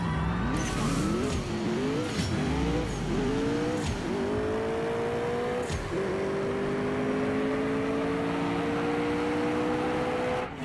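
A Porsche GT3 RS engine in the racing game CSR 2 revs hard several times, then settles into a sustained rising whine that holds steadily to the end.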